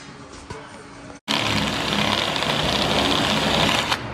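A welder buzzes steadily on an LS engine swap project, starting abruptly after a brief silence and holding a loud, harsh crackle for about three seconds alongside shop noise.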